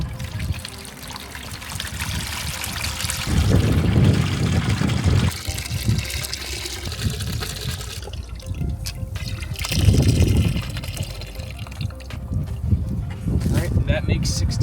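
Liquid fertilizer solution pours and trickles from a tank into a measuring container for tomato fertigation, a steady splashing flow that swells and eases in bursts, with a voice talking at times.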